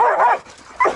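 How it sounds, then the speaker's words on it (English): Dogs at home, eager to go outside, give two short yelping barks close by within a second. "Hold up, the dogs want to go outside."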